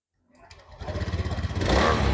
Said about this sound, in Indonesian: Kita putar kontak on dulu, kita coba pakai double starter.